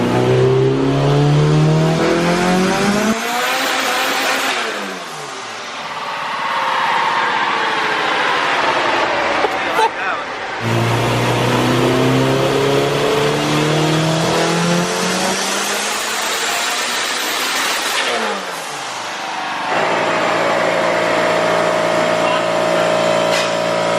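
An AWD Honda CRX on a dyno revs hard through repeated pulls, the engine note sweeping upward with turbo spool, dropping off and climbing again, loud and close, ending in a steady high whine.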